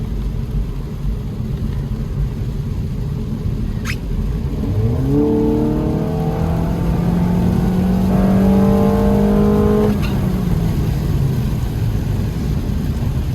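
A 2022 Honda Civic Sport engine with an AEM cold air intake revs up with rising pitch, VTEC engaging around 5,500 rpm, climbing steadily then holding high before easing off, over a steady road and cabin rumble.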